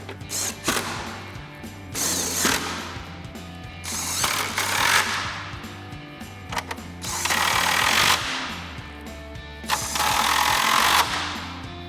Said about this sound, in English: So now we've got our 10 mil socket. We're going to reinstall all of our mounting hardware for our upper trim.